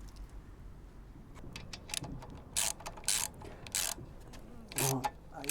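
A wrench loosens a nut while crash bars are fitted to a BSA Goldstar 650 motorcycle, giving a series of short metallic clicks and ratcheting bursts, close by, with intermittent louder scrapes.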